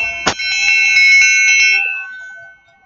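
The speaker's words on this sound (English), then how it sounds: "It's really large, and" One firm strike of a large ritual bell, its bright ringing tone sustaining and slowly fading to silence.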